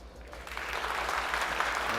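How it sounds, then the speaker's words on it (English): Steady applause from a pool championship audience fills the room, a moderate, even wash of clapping with no voices on top, held at a constant level throughout. "It's applause for Francisco Sanz-Ruiz, who takes down Peter Gorst."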